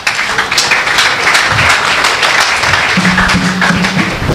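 Church congregation applauding during a sermon, steady sustained clapping that fills the room at full volume, with a low hum underneath.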